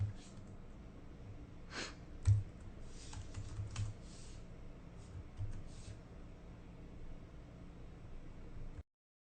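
Steady typing on a computer keyboard with quick, uneven clusters of key clicks and a few sharper strikes over faint background hiss, close by.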